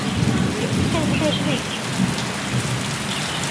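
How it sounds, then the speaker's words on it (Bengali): Heavy evening rain pours down during a thunderstorm, a dense, loud, continuous hiss of drops striking surfaces, with low rumbling beneath and no speech. "ঝড় বৃষ্টি হচ্ছে আমাদের এখানে, দেখো কি ঝড় বৃষ্টি হচ্ছে।"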